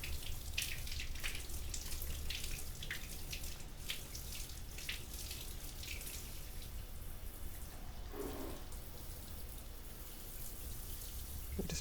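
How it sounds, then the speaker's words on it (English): A shower spray rinses leftover coffee, running as a steady, close hiss of water with scattered splashes and drips, continuous throughout and with no talking. "I'm just rinsing out any leftover coffee that's in the shower"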